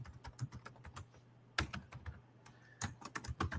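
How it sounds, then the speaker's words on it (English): Fingers type an email on a computer keyboard in quick irregular bursts of clicky keystrokes with short pauses, close and fairly quiet. "I'm typing my email into the chat right now."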